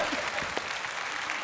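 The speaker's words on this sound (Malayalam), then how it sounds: "കയ്യടി കൊടുക്ക്" Studio audience applause on a Malayalam comedy show, a short, fairly faint burst of clapping with a murmur of crowd beneath it.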